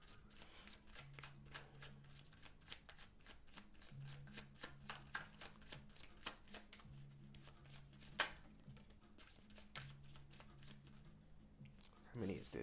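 A deck of oracle cards being shuffled by hand, with steady rapid riffling that runs for about twelve seconds and a few louder snaps near the end, heard close up under a faint low hum.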